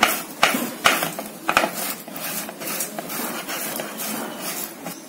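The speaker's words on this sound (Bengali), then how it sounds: "আমার আলুটা গ্রেট করা হয়ে গেছে" Boiled, peeled potatoes rubbed against a metal grater in a home kitchen, giving a run of scraping strokes. Several sharper strokes come early, then a steadier rasp continues close by with no talking.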